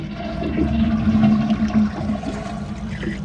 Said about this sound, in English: Next, we want to flush the toilet and get as much water out